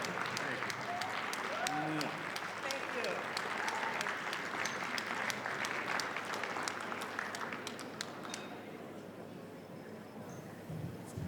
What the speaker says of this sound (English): Let's give another round of applause for Linda Yu, please.